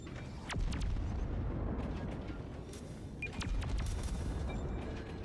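Armor-piercing shells slamming into a ship's citadel in a space-combat naval game, a series of heavy booms and sharp cracking impacts over a dense rumbling battle bed, loud and continuous.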